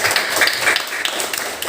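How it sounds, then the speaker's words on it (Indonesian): Students in a classroom give brief applause, a short burst of scattered, uneven clapping from a small group, fairly close and lively. "Tepuk tangan dulu, Sandra."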